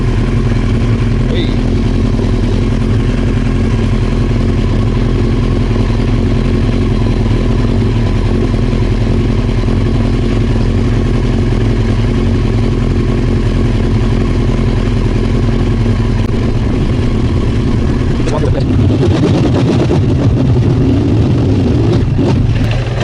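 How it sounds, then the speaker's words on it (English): A Honda CBR 900 Fireblade engine runs loud and close, steady for most of the time, then starts to sputter and stumble unevenly near the end as it runs out of fuel. "there's that sort of noise that you get when you run out of fuel"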